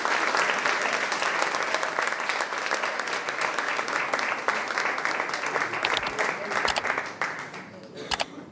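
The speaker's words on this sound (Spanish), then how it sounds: "Vamos a recibir con un fuerte aplauso a Elías González" Audience applause fills the hall at a popular science night on nuclear energy, sustained steady clapping from a crowd welcoming a nuclear plant operations engineer, loud and dense throughout before thinning near the end.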